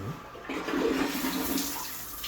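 A toilet flushes in a one-room apartment in Siheung-dong during a drainage check, giving a short, close rush of swirling water that drains steadily away.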